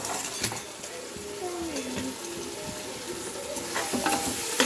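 Onions and carrots sizzle and fry steadily in a pan, with a utensil stirring and scraping through them and occasional clinks of metal against the pan, close and continuous.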